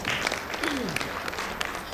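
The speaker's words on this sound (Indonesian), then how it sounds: "Kita kasih tepuk tangan buat Mbak Tina" Applause from a room of businesswomen at a workshop, a broad steady patter of clapping filling the moment with no talk over it.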